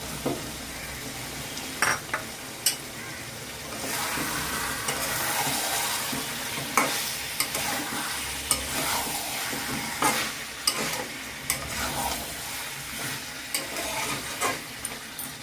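Cut potatoes fry in a pan with country (desi) chicken, giving a steady sizzle and hiss while a spoon stirs with repeated sharp scrapes and clinks against the pan.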